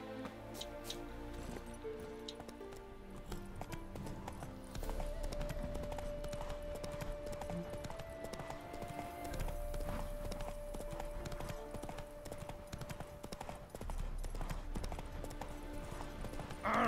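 Horse hooves clip-clopping in The Witcher 3 video game, a steady near rhythm of footfalls over in-game ambience and music, fairly quiet overall.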